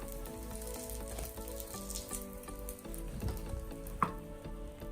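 Vegan fishcakes fry in shallow oil until browned and crispy, giving a steady close sizzle with a soft clink near the end; no talking.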